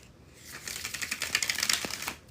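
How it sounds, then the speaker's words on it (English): A deck of playing cards is bridge shuffled, with a rapid, crisp riffle of flicking cards building to a fast patter, then a brief soft cascade as the cards settle. "And there it was, the bridge shuffle."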